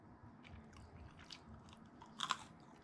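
Someone bites into and chews crunchy fried chicken from a San Jose restaurant, with soft close mouth sounds building to a sharp crunch near the end, all fairly quiet.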